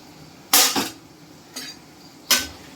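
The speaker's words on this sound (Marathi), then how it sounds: "कांदा असा परतून टाकायचा." Onion being sautéed and stirred in a pan for spicy chickpeas (chane chatpate): three short scraping, clattering bursts of a spoon against the pan, the first longest, with quiet pauses between.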